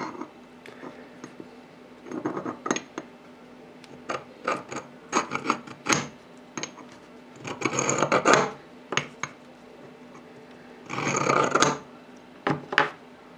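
A marking tool scribes lines on a square workpiece clamped with a screw, giving short scratchy rasping strokes in bursts with clicks and handling knocks between them, close and moderately loud.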